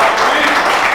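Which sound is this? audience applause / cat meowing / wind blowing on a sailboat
audience applause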